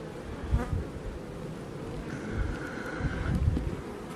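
Honeybees buzz around an open beehive, a dense close hum of many insects with a few louder passes near the microphone and some light wind bumps.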